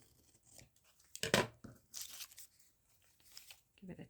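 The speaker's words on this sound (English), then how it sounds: "let's tear this" Paper torn by hand while crafting junk journal embellishments, with short ripping bursts and one louder tear among faint rustling handling sounds.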